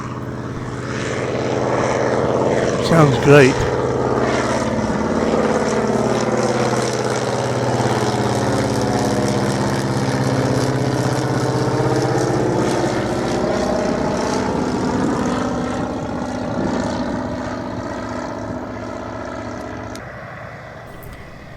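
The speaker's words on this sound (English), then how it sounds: "And here he comes for a flyover." A propeller airplane makes a flyover at an airfield, its engine drone rising and then sweeping away as it passes, steady and fairly loud, with a brief spoken remark near the start.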